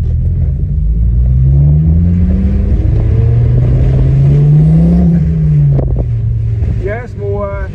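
A Ford Focus ST225 with a modified, throatier exhaust revs close and loud, its engine note rising and then falling over a deep rumble, with a brief voice near the end.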